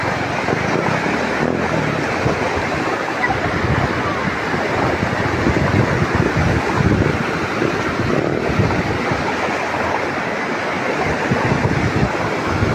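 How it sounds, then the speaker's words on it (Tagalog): Floodwater in the Philippines rushes in a loud, constant roar, with churning noise and wind buffeting throughout and no break. "Dako kayong baha oh."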